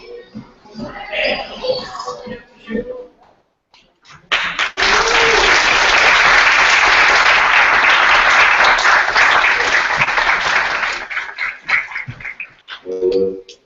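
Audience applause at an elementary school innovation space dedication ceremony, a long burst of dense clapping that swells and then tapers off, with speech before and after it.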